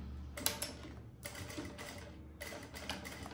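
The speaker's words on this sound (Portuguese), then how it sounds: "E vou costurar agora aqui." A sewing machine stitching fabric for a luxury cosmetic bag set runs in short mechanical bursts with quick rhythmic clatter and pauses between runs, fairly close and moderately quiet, with no speech.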